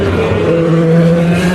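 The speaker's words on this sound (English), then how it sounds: "I'll leave you with a couple of moments of cars coming by." Race cars roar past at Le Mans in 2014, Porsche 919 and Audi prototypes, a loud, close, continuous engine drone that fills the whole moment.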